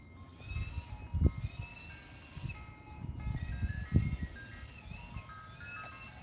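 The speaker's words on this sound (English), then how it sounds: "Oh, I don't got no cash and I got the ice cream truck here." Faint, distant ice cream truck jingle playing a tinkling melody on a street during a walk, heard under footsteps and outdoor background noise.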